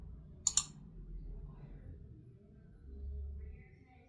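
Two crisp, quick computer mouse clicks sound close together near the start, followed by near silence with a faint low hum.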